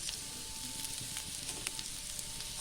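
Boiled potato and taro frying in a pan, giving a steady, fine sizzle with soft crackles throughout at moderate closeness.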